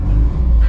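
A SEAT 600, a small classic car with a roughly 20-horsepower engine, idles steadily up close, giving a continuous low rumble with no talking.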